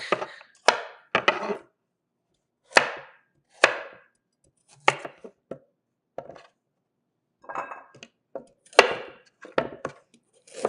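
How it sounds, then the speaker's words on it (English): A knife chopping cooked corned beef into two-inch chunks on a wooden board, a series of separate close thuds and cuts in irregular bursts with quiet pauses between them. "So I'm going to cut them into 2-inch chunk."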